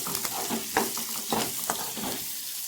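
Mudakathan keerai greens frying in a hot pan after mustard seeds, a dense steady sizzle with occasional stirring scrapes, close and continuous.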